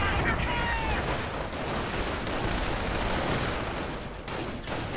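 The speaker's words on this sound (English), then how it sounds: "Flak 88 just blasting away so far" Flak 88 anti-aircraft gun firing during a World War II strategy game battle, heard as a dense, continuous rumble of booming gunfire and explosions across the whole stretch, loud and steady with no pauses.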